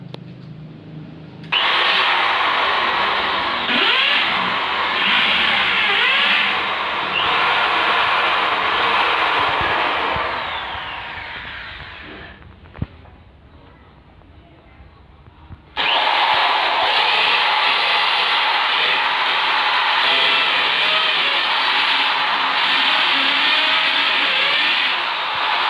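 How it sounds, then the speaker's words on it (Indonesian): A power drill bores holes into a wall to mount curtains over a window or door, with two long, loud, steady whining bursts near at hand separated by a few seconds of quieter winding down and pause. "Langkah selanjutnya kita lakukan pengeboran."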